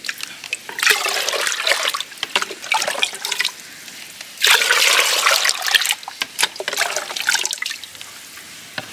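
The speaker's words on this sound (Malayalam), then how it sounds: "അതിലേക്ക് നമ്മൾ ഒരു ആറ് ലിറ്റർ വെള്ളം ചേർക്കാം" Six litres of water poured into a container holding a three-litre mix for an organic garden slurry, a steady splashing flow in two long bursts with a brief lull between, fairly close and without voices.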